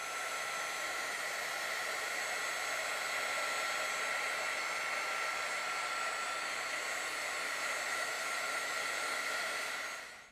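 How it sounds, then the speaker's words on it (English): A craft heat tool blows steadily on Astro Paste spread across a card panel, giving a loud, unbroken airy whoosh that holds for about ten seconds and then cuts off. "So I'm going to go ahead and speed up the process with my heat tool."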